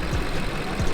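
A rebuilt BMW 7 Series engine idles steadily once it has warmed up, giving a low, even rumble close by. Faint periodic pulses repeat under the idle, and no one speaks.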